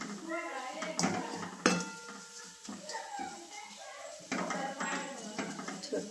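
Metal utensils scrape and clink against a cooking pan in irregular strokes while frying spices with red chilli powder, with a few louder knocks, alongside soft voices in the background.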